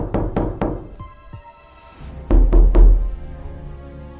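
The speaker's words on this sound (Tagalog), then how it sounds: "bigla na lang may kumatok ng napakalakas." Loud knocks pound on a bedroom door in two quick bursts of three heavy blows each, close and booming, with a faint softer knock between and no talk, as a horror story sound effect.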